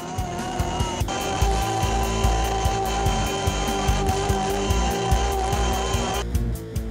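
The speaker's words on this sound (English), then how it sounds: "This operation is a raster carve using a tapered 1/16 inch diameter ball nose bit." CNC router raster carving a bit box with a tapered 1/16 inch ball nose bit, a steady close machine whine with a regular low back-and-forth pulsing as the tool passes, running continuously before easing off at the end.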